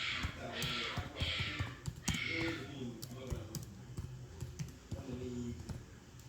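Fast typing on a computer keyboard, with clustered key clicks and taps going on steadily under a spoken voice.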